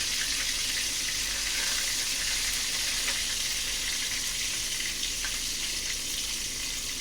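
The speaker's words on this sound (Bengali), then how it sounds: "ভাতটা ফুটছে।" Rice boiling in a pot on a home kitchen stove gives a steady, close bubbling hiss. The sound holds even and unbroken throughout with no talking.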